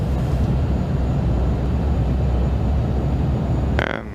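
Steady loud roar of jet thrust reversers after touchdown in a home-cockpit flight simulator on a Toronto to Philadelphia flight, a continuous broadband rumble that holds evenly before tapering off near the end.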